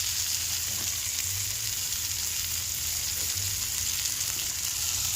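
Ginamos, a homemade fermented paste of crushed anchovies, sizzles steadily in a pan as it is sautéed, with a continuous bright frying hiss held at an even level and no voices.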